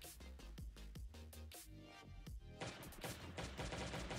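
Heavy turrets fire in a video game base raid, producing rapid bursts of gunfire-like shots in quick succession, sharp and punchy, with the pace tightening into a dense volley toward the end.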